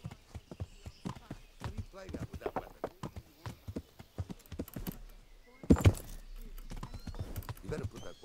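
A horse in the medieval video game Kingdom Come: Deliverance moves with steady, rhythmic hoof clip-clops and gives a louder snort or whinny burst partway through. Someone talks over the sound.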